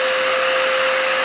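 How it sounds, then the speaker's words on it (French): A Festool dust extractor vacuum switches on automatically and runs with a loud, steady, close-up whine and airy rush, with no speech. "Vous entendez l'aspirateur qui se met en route."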